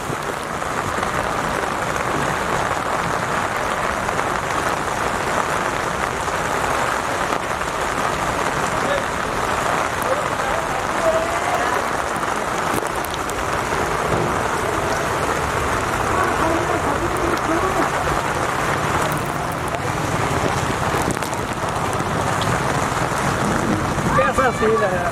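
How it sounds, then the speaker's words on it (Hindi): Heavy rain pouring down in a village, a dense, steady hiss of drops on surfaces lasting throughout, loud and close, with faint voices now and then beneath it. "बहुत तेज़ बारिश हो रही है।"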